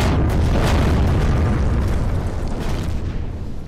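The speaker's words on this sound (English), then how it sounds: "I think it's gonna explode the whole thing." A loud, close explosion in the Empyrion Galactic Survival video game: a deep, heavy boom that bursts at once and rumbles on for a few seconds, slowly fading, with no talk over it.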